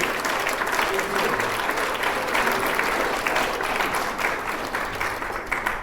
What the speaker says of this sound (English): Give Scott a round of applause.